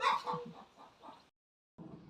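Several chickens cluck in a quick, uneven run of short calls, fairly close, then a brief silence before more clucking starts.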